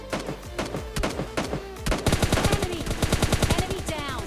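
Rapid automatic gunfire in the video game PUBG Lite: a few separate shots at first, then a dense, fast burst of bursts crackling close and loud, with no talk over it.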